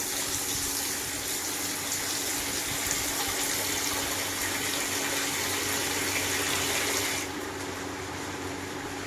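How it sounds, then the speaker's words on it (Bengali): Water poured into a pan of chicken meat curry, a steady close gushing rush that drops off abruptly near the end, leaving a softer bubbling hiss. "তো এই মাংসের মধ্যে এবার জল দিয়ে দিচ্ছি"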